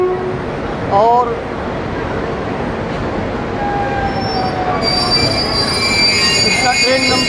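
The Durg–Nautanwa Express, train number 18205, running on rails via Faizabad, heard as a loud continuous rumble of wheels with sharp wheel squeals rising over it. A voice is faintly audible under the noise.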